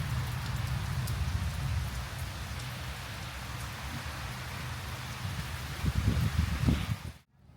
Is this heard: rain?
yes